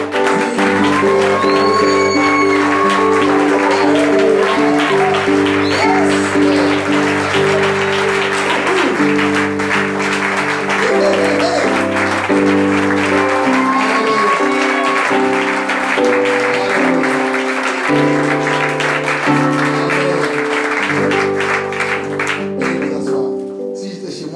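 A church congregation applauds and acclaims during a sermon, loud continuous clapping over sustained tonal sound from music and voices throughout.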